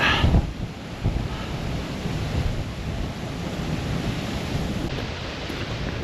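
Seljalandsfoss waterfall in Iceland roars as a constant broad rush of falling water close by, with bursts of wind buffeting the microphone.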